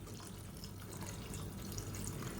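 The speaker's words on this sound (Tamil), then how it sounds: "நல்லா சூடு பண்ணிவிட்டு இந்த தண்ணியை சேர்த்துக்கோங்க" Water poured into a pan of heated curry (kulambu) in a home kitchen, a soft continuous trickle and splash heard faintly and close, with no voices.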